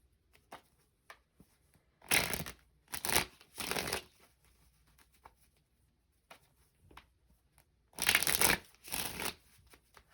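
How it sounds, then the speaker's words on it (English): Tarot cards being shuffled in several quick riffling bursts, close and crisp, separated by quiet pauses. "with the tarot, I feel like shuffling it again."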